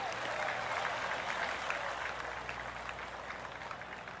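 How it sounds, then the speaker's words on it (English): Steady, polite applause from spectators rolls on at a golf tournament in the rain after a fine shot, a dense even patter of many hands held at moderate distance for several seconds. "That deserves a golf clap."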